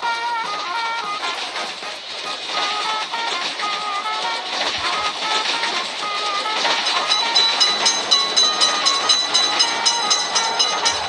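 A cartoon train rolls through a railroad crossing in a mobile game, a steady bright rushing rumble with rhythmic clatter and high tonal whistle-like notes, loud and continuous with no voices.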